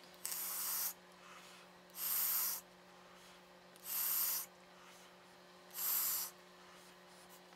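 Four evenly spaced airy draws on a SMOK Arcfox 230W vape kit with coil installed and airflow fully open, each a hissy rush of about a second over a faint steady hum.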